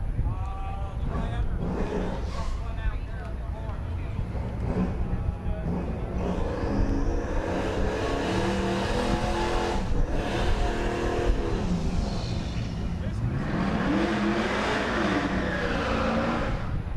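A Camaro and a Firebird race down a dragstrip with engines roaring steadily in the background. A voice talks over much of the noise.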